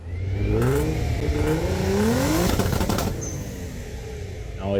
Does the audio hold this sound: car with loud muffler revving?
yes